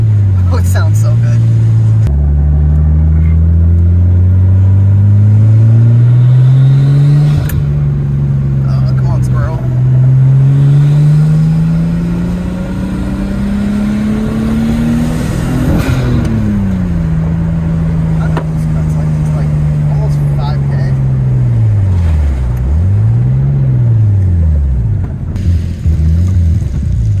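A Nissan 240SX fitted with an RB25 engine drives along, its loud close-up engine note climbing and falling through gear changes and revs, with a voice speaking over it.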